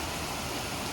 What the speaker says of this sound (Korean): 점심에 갑자기 비가 옵니다. 시원하게